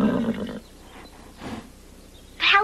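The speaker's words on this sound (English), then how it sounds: "You can't ride that horse." A horse neighs nearby in a scene from Escape To Witch Mountain (1995), with a loud whinny at the start, a softer snort in the middle and another brief high call at the end.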